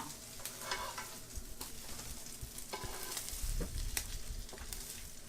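Bacon sizzling in a pan while being stirred, a steady crackling fry with scraping utensil strokes and small knocks, close and moderately loud.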